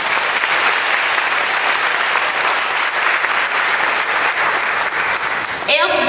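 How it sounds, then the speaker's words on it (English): An audience at a school honors day applauds loudly and continuously for several seconds, a dense wash of clapping, before a voice begins speaking at the very end. "So give Angel another applause."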